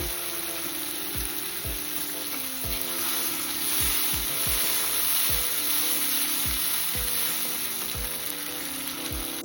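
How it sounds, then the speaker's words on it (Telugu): Ground tomato puree fries in a pan with salt for tomato pulao, giving a loud, constant sizzle under a steady hiss, punctuated by repeated scraping stirs, with no talk. "ఇప్పుడు మనం గ్రైండ్ చేసుకున్న టమాటా ప్యూరీని వేసి కొంచెం సేపు వేయించేసుకోవాలి"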